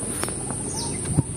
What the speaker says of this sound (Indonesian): Suara burung pun dengar.